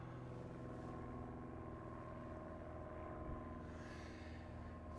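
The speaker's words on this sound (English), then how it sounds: "That tiny plane, look, it's lovely today, Dan, isn't it?" A small propeller airplane drones overhead as a steady, distant hum heard from a motor yacht's deck on a calm day, continuous and fairly faint with no talk.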